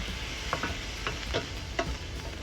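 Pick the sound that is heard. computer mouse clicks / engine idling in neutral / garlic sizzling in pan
garlic sizzling in pan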